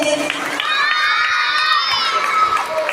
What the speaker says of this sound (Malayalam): അപ്പൊ സാറിനൊരു ബിഗ് ക്ലാപ്പ് കൊടുത്തേ